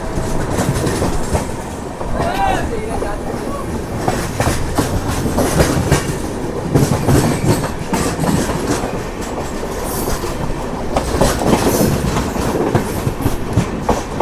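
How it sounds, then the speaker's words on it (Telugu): A train rolls into a station, with loud, continuous rumble, rhythmic clickety-clack of wheels over rail joints and occasional brief wheel squeals, heard close throughout without talk. "సో ఇక్కడ చూసుకుంటే ఏదో ట్రైన్ వస్తుంది"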